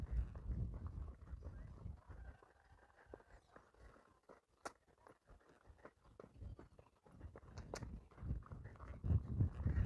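A ridden horse's hooves clip-clop in a steady walking rhythm on the ground, close but fairly quiet, with occasional louder thuds and rustling throughout.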